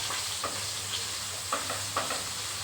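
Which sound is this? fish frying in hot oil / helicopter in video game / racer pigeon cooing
fish frying in hot oil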